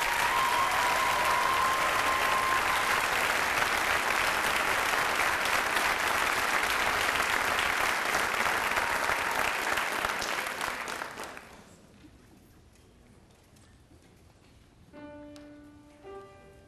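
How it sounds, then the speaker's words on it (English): Audience applause for a women's choir at a high school and middle school choral festival, a sustained round of clapping across a hall that fades out after about eleven seconds, followed by quieter room sound and a few faint tones. "if you would join me in giving them a round of applause"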